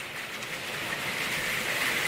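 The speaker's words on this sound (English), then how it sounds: "it is hailing extremely hard right now while I'm filming this" Hard hail pelts down outside in a steady broadband hiss that swells slightly over a couple of seconds, heard from indoors with no talking.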